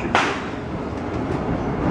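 The Disneyland Railroad train rolls along in a steady, close mechanical rumble with faint rattling, opening with a brief sharp hiss or clank.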